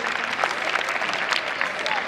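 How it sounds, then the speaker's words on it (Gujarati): A crowd applauds a prize winner at a school annual function, a steady burst of clapping from many hands heard alongside speech. "આપણે ખૂબ ખૂબ તાળીઓથી વધાવી લઈએ એને."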